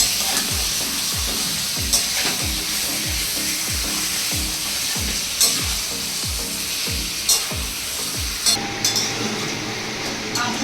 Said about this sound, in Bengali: ভালো করে নেড়ে মশলাটা মাখিয়ে দেবো।